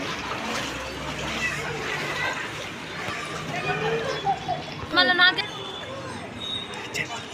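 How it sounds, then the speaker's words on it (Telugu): Water splashes and sloshes as feet are washed at the entrance of a Kali Mata Ammavari temple, with a brief burst of louder splashing midway, set against a busy background of murmuring voices. "ఇక్కడ నుంచి మనం కాలు కడుక్కొని వెళ్ళాలి లోపలికి."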